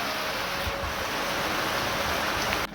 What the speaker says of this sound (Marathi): अर्धा तास झाला पाऊस पडायलाय, अजून चालूच आहे